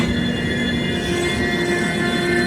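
Guwahati Sairang Express standing at a station platform in Sairang, Mizoram, giving a steady loud rumble and hum with faint squealing tones, continuous with no voices.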